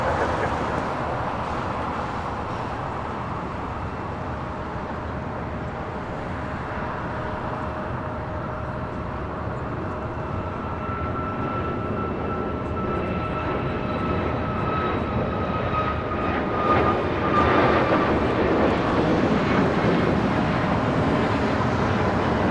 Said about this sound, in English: Our Cayman Airways now rolling down to 5 right.